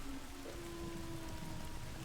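The Freezing Rain spell in the real-time strategy game Age of the Ring makes a continuous hiss of falling rain with faint pattering drops, steady and quiet throughout the brief moment, with no voices.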